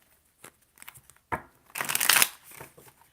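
Tarot cards being shuffled up close: a few light taps, then a sharp riffle and a longer dense burst of card flutter, followed by softer handling, with no talk.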